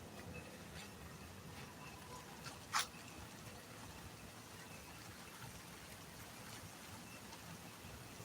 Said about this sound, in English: the rain's picking up again